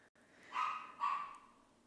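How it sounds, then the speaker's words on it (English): A Pomeranian barking from a room next door, two muffled yaps in quick succession, faint and slightly distant, with no talking. "And I'm sorry about my dogs."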